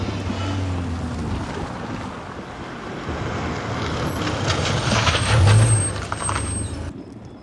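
A heavy truck pulls to a stop with a loud air-brake hiss near the end, over a steady low engine rumble and wind buffeting, the whole scene close and continuous before cutting off abruptly.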